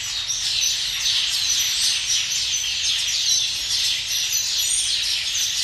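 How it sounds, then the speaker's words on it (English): A flock of Taveta golden weavers fills the air with a dense, continuous chorus of chirps and chatter, close and loud throughout. "We have 52 Taveta golden weavers"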